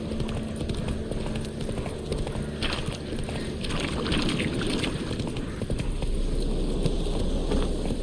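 Hooves of Roach, a horse in The Witcher 3 video game, clopping in a steady galloping rhythm, close and continuous over a low rumbling wind-like background.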